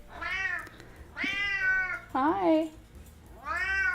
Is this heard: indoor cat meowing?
yes